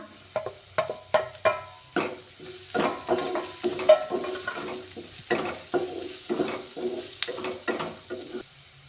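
Capsicum being stir-fried in a pan for a quick bread snack: a steady sizzle broken by repeated, rhythmic scraping strokes of the spoon, close and fairly loud, with no talking.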